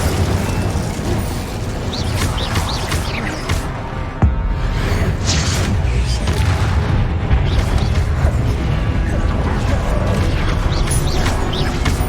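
Incendio fire spell cast in Hogwarts Legacy, loud booming fiery bursts over dense combat noise, with one sharp blast partway through and continuous rumbling action around it.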